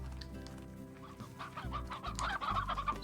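Chickens cluck and murmur in the Slime Rancher farming game, a few soft bursts of fowl chatter over a low background hum, growing busier toward the end, with no one speaking.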